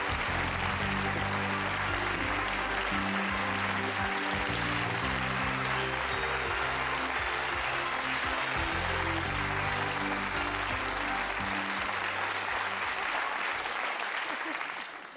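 Sustained, loud audience applause fills a television studio as Dame Margot Fonteyn is welcomed for a 1984 interview, a dense steady clapping that runs unbroken for about fifteen seconds before trailing off at the end.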